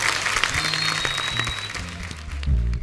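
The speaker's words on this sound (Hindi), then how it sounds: "एक बार वरुण और सारा के लिए जोरदार तालियां।" A studio audience at The Kapil Sharma Show, a Hindi comedy talk show, applauds in a dense, steady wash of clapping, with music and tones sounding underneath.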